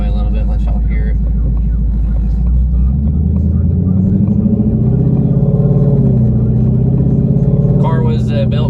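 A Whipple-supercharged Ford Mustang cruises on the highway, and its engine and road rumble from inside the cabin stay loud and steady as it pulls along at a constant pace. Someone talks over the noise.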